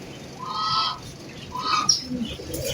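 Pigeons calling in short honking bursts at a bird market, a few separate calls close by, over a noisy background murmur.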